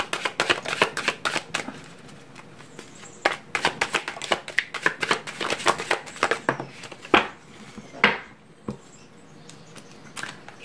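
Cards are shuffled and drawn for a reading, with rapid close riffling bursts and soft patter. A few sharper snaps come near the end, with no talk.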